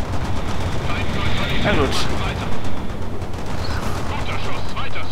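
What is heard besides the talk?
gunfire in the video game World in Conflict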